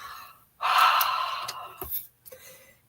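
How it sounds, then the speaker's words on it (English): Close breath exhaled onto an inked rubber stamp for a paper craft card, a soft airy huff lasting about a second and a half, followed by a brief sniff and faint handling noise. "or not blow on it, but like breathe on it"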